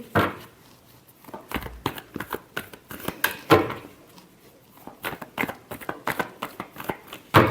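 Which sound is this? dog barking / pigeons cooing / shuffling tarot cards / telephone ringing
shuffling tarot cards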